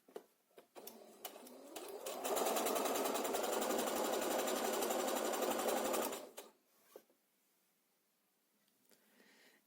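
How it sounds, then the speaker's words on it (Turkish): A sewing machine runs a straight seam along a thinly folded fabric edge for a gusseted envelope bundle. The motor whirs up, holds a steady, loud, even stitching drone for about four seconds, then stops, leaving faint handling noises. "buradan boylu boyunca düz dikiş dikiyorum"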